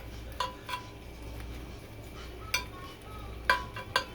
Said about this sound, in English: Mix this well.